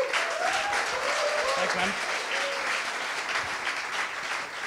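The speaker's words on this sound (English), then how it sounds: "I would like to ask for an applause for him as well." Steady applause from a crowd at a coding bootcamp demo day fills the clip, with a brief spoken thanks heard over the clapping.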